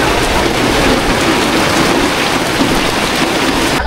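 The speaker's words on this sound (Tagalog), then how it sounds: "Biglang bumuhos ang ulan." Sudden heavy rain pours down outdoors near a hut in a loud, dense, continuous roar, with low rumbling that fits thunder mixed into the downpour.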